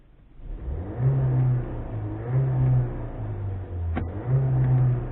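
Seat Ateca SUV engine revving in sport mode, rising in several drawn-out, droning pulls that climb and ease back in turn, heard from inside the cabin at moderate loudness.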